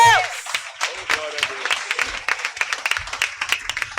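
A church congregation at a worship service claps in quick, uneven bursts beneath a voice speaking and calling out over them, with the clapping and voice alternating and overlapping at moderate loudness.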